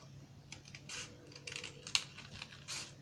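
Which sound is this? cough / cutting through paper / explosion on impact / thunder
cutting through paper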